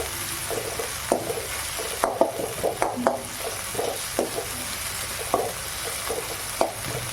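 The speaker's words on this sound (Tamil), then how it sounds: "இது நல்லா நம்ம வதக்குறோம்." Crab masala is being sautéed in a pan: sporadic scraping and stirring knocks over a low, steady sizzle, close and moderately loud, with no talking.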